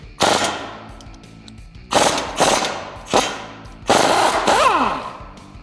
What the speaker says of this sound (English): I use my impact gun to remove this nut here.